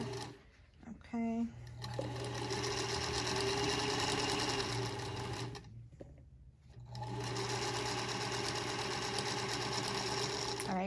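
Singer Featherweight 221 sewing machine stitching at a steady fast whir, running for several seconds, pausing briefly, then running again, close and loud with little else around it.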